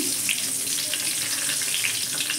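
Bay leaves and fennel seeds sizzle in hot mustard oil, a steady close hiss of frying with small crackling pops throughout and no talking.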